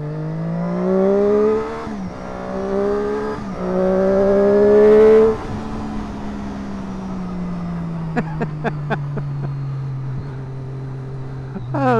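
A Triumph Daytona 675 sports motorcycle's engine revs up sharply through several rising gear pulls, loud and close, then settles into a lower steady drone as the bike rides away, with a few sharp clicks near the end.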